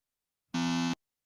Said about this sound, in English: It's just a regular buzzer.